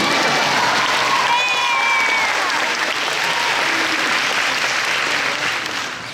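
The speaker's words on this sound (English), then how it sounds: "Yeah, clap." A high school graduation audience applauds and cheers loudly and continuously, a dense crowd roar of clapping with occasional whoops rising above it before it gradually tapers off.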